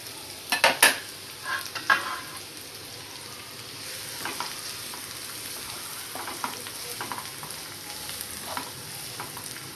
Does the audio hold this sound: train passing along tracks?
no